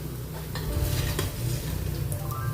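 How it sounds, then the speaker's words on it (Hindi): Vegetable koftas sizzle steadily as they fry in hot oil, with a continuous crackle close by and occasional light scrapes of a spoon or utensil against the pan. "सभी को हम ऐसे ही तलकर तैयार कर लेंगे पहले"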